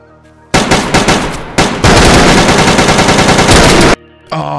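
Rapid automatic gunfire in the survival game DayZ, loud and close, firing in a short burst, a brief pause, then a long sustained volley before stopping, with no talk over it.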